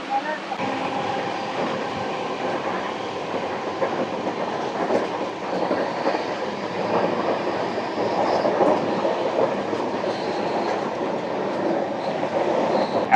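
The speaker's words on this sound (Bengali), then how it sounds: "আমাদের ট্রেন এসে পৌঁছলো তার দ্বিতীয় স্টপেজ উলবেড়িয়াতে।" Passenger train on the run between Uluberia and the Kolaghat bridge in West Bengal, with a steady rumbling roll and faint clattering of wheels all the way through, loud and close from inside the carriage.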